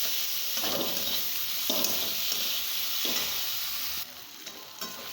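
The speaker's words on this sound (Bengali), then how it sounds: "আগে পেঁয়াজটা আর রসুনটা আমি ভেজে নেবো ভালো করে।" Onion and garlic fry in a pan with a loud, constant hissing sizzle, broken by a few rhythmic stirring scrapes; the sizzle drops quieter near the end.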